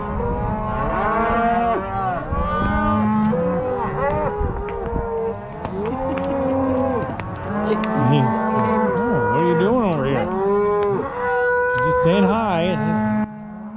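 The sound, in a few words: cattle mooing during ranch round-up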